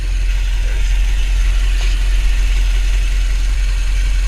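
A Mercury 330 HP engine on a Centurion boat holds a steady idle of about 2,000 RPM during winterizing, giving a continuous, even low drone that runs unchanged from start to finish with no talking.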